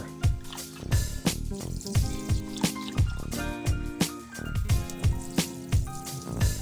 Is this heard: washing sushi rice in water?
yes